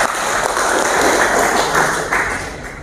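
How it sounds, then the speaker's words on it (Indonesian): Applause from an audience at a regional assembly of the DPW PPMI of West Java, a dense, steady patter of many hands clapping that holds for a few seconds and then begins to taper off. "Kita berikan tepuk tangan untuk kita semua"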